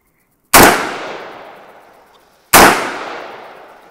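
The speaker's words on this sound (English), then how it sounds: "We're just gonna go ahead and start shooting." Two loud, close rifle shots from an AR-type rifle with an A2 birdcage flash hider, chambered for .223/5.56 or 300 AAC Blackout, fired about two seconds apart outdoors, each crack followed by a long fading echo.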